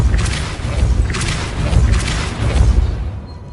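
Repeated Depulso spell casts in the video game Hogwarts Legacy, three or four heavy booming whooshes with bright bursts arriving roughly every second, then tailing off into quiet.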